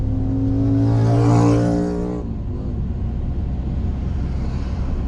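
A car's engine hums steadily from inside during a driving lesson, with a sustained drone that eases off partway through as the throttle is released, then settles into a quieter road rumble.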